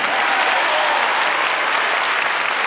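Loud, sustained applause from a church congregation in Buenos Aires, a dense steady wash of clapping filling the whole stretch without pause.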